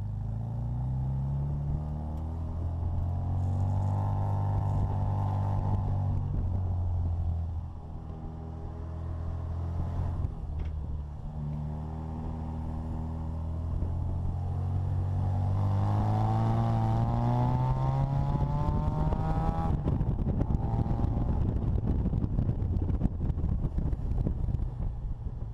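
The supercharged engine of a Bugeye Sprite with a 5-speed gearbox runs and revs repeatedly, its pitch climbing and falling through gear changes, close and fairly loud with wind noise but no talking.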